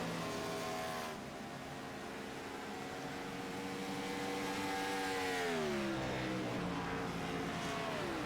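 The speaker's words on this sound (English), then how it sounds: "Cars on track at the moment." Race cars circling a track, a continuous droning engine note that rises and falls as cars pass, heard from a distance with no talk.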